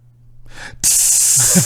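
A voice makes a short breathy hiss, then a loud sustained spraying sound, imitating a spray can being discharged.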